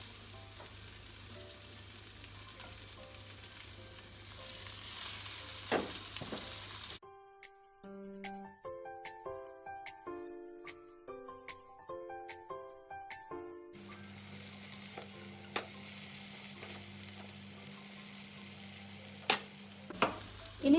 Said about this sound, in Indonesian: Kalau sudah panas, masukkan bawang putih dan bawang merah serta cabai.